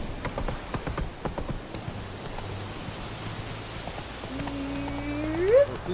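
Roach, the horse in Witcher 3, gallops with steady clip-clop hoofbeats under game music and ambience, ending in a brief whinny-like rising tone.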